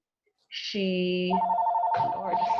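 A mobile phone rings once in an indoor presentation setting, a bright electronic ringtone that starts abruptly, holds a steady tone, then shifts to a second higher phrase, fairly clear and alone.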